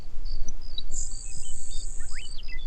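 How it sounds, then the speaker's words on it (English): A grasshopper sparrow's high, thin buzzing song drawn out for over a second, with short chirps around it and a steady wash of crickets in the background. "Here's another grasshopper sparrow with a lot of crickets."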